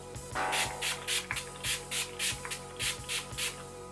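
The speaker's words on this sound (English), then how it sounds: "then I'm going to go in with a setting spray" Setting spray misted onto a face in a quiet indoor setting, a steady series of about eight short, crisp hissing bursts in an even rhythm, close and clear with no talking.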